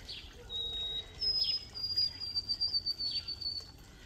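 A migratory bird sings thin, high whistled notes a few times on a spring walk, fairly distant, over a low outdoor rumble with no talking.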